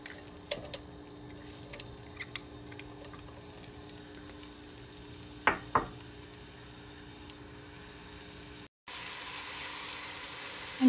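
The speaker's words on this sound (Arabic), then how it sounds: "عندي زيت رح أضيفه بالقدر، رح أنزل عليه البصل" Onion frying in oil in a pot, a steady low sizzle with a few faint ticks and clinks, close and fairly quiet throughout.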